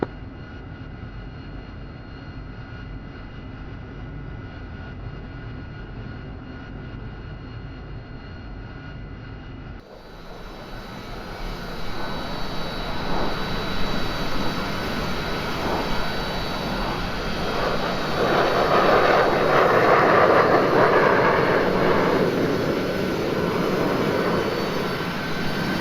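Jet aircraft engine noise in the DCS flight simulator during a training flight around an LHA deck takeoff, a steady loud roar that swells after about ten seconds and builds toward a broad peak, with no speech over it.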